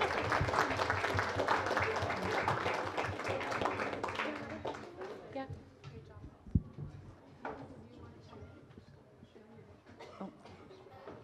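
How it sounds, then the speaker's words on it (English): A science café audience breaks into short applause that thins out within several seconds into scattered claps, a thump and quieter room noise, with people talking underneath. "That calls for a round of applause"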